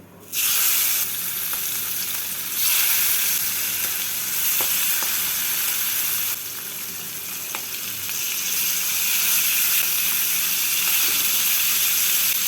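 Hilsa fish pieces hit hot mustard-style oil tempered with dried red chillies and nigella seeds, setting off a loud, continuous sizzle and crackle that surges in waves and holds steady with no voices.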